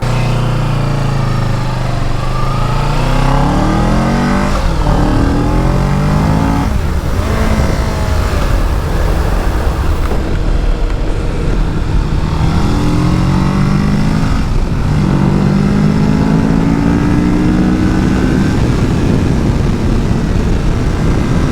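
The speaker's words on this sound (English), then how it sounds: "That is not my fastest pull on this bike" Motorcycle engine roars close up under hard acceleration, revving up through several gears with a rising whine in each gear and brief dips at every shift, loud over constant wind rush.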